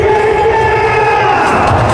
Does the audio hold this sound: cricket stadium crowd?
yes